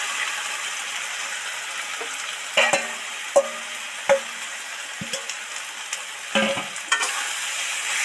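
Fried potatoes and soybean chunks are stirred into a sizzling spice masala, a low steady frying hiss broken by a handful of distinct spatula scrapes and knocks against the pan; no talking.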